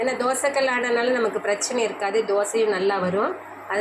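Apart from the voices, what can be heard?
No distinct noise like a dog, phone or traffic.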